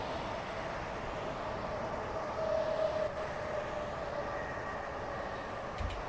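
A Class 450 electric train running on the South West Mainline in Train Simulator Classic, a steady rolling rumble with a faint whine that swells slightly midway, then a short thump near the end.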